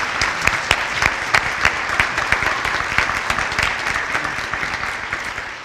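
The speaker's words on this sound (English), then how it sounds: "So please give them a round of applause." An audience at an award ceremony gives a round of applause, a sustained crowd of clapping hands with sharp individual claps standing out, fairly close and continuous throughout.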